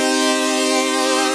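Sustained synth chord played straight without any gating, a bright, steady buzzy tone holding evenly for just over a second.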